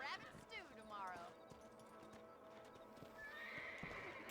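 In Red Dead Redemption, a horse's hooves clip-clop in a steady rhythm while it lets out whinnies, close and fairly quiet, with faint voices in the background.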